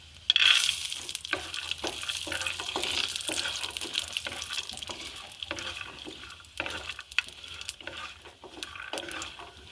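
Peanuts frying in a pan with whole coriander seeds, a loud close sizzle with busy crackle and repeated stirring scrapes, no talking.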